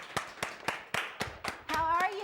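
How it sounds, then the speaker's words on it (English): Audience clapping to welcome a guest onto a radio show set, a sparse run of sharp claps in steady rhythm, close by, then a burst of voices chattering over the last claps. "let's go ahead and clap our next guest out"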